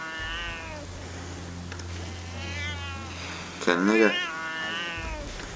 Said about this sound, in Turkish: Kedi kafayı yedi arkadaşlar.